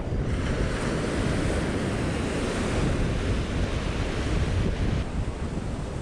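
Strong wind buffeting the microphone on a South Australian surf beach at Long Beach on the Limestone Coast, a constant loud roar blended with crashing waves, no pauses.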